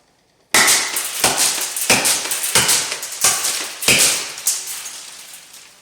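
A 40mm six-shot launcher fires foam rounds in a rapid string, about six sharp loud reports spaced under a second apart, each followed by a brief ringing tail, with no talk.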